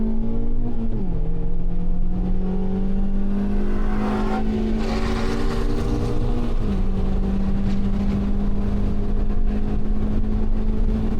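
A Mazda MX-5 ND race car on a circuit: a steady, loud engine drone near the driver, with a brief dip in pitch as it shifts into second, then climbing revs as it accelerates, dipping again mid-run before pulling hard once more.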